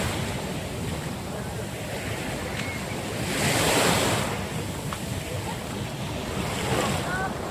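Waves wash onto a beach shore at Little Boracay in Conception, a continuous close surf rush with a stronger swell building mid-way, mixed with wind buffeting the microphone.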